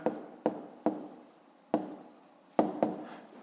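A pen taps and scratches numbers onto paper at close range, with six short separate strokes in an uneven rhythm and quiet pauses between them.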